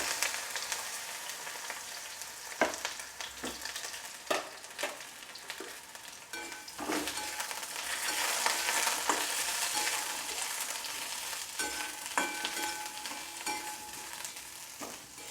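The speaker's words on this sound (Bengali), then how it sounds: "এই তেলেই আমি বেগুনগুলো ভেজে নেব একটু লাল লাল করে" Eggplant pieces fry in hot oil in a wok, a constant bright sizzle punctuated by sharp scrapes and clacks of stirring, fairly close and with no voices.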